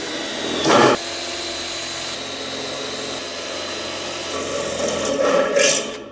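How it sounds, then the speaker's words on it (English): A close power drill whirs in a short burst while drilling holes, then hums quietly before a second rougher burst of drilling near the end. "The first step of fitting this was drilling some fucking holes in it."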